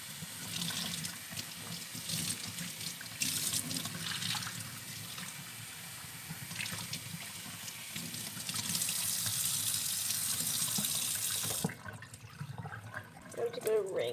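Tap water runs steadily into a sink while hair is rinsed, a continuous splashing rush that changes as the stream hits hair and then cuts off near the end.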